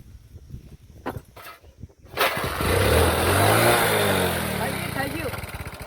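A motorcycle engine catches after a few moments of talk and scattered knocks, then runs loud and close with rising and falling revs, while voices continue over it.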